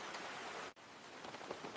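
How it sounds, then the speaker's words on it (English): Steady rainfall, a soft continuous hiss of drops on surfaces heard faintly and alone, with a brief dip partway through. "It is raining today."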